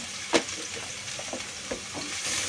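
A pan of jackfruit seed and jute leaf curry being stirred, with a few soft scraping strokes over a steady low sizzle, close and fairly quiet.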